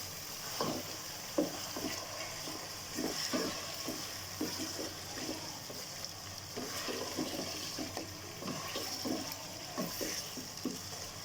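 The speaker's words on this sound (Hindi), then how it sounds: "चिकन को हम यहाँ पे फ्राई करेंगे।" Chicken frying in a pan for a restaurant-style korma, with a steady sizzle under repeated scraping and stirring strokes in an uneven rhythm, close and moderately loud.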